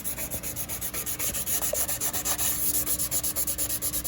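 Steady rhythmic abrasive rubbing scrubs a Sprinter T1N engine head gasket surface clean, fast regular back-and-forth strokes about six per second, close and loud with no talking.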